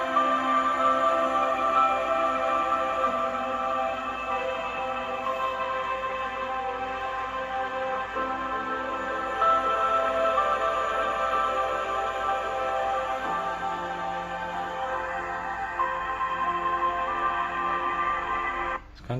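Samsung Note 20 Ultra phone speaker at maximum volume, playing a steady bright, tinny stream of layered tones for about nineteen seconds, fairly constant level with faint ticking, no voices.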